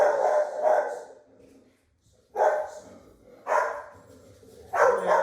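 A dog barks in short loud bursts at home, a pair of quick barks, then a pause with a faint whimper, followed by three more separate barks, close and alone with no talking.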